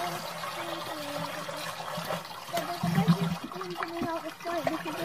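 Water gushing and trickling out of the pipe of a DIY off-grid rocket stove water heater, an uneven splashing flow that surges midway, with someone talking over it.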